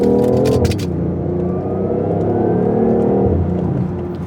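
A BMW i8 sports car accelerates through corners, its engine droning loudly and steadily with the pitch rising and shifting, plus a faint whine, and no talking.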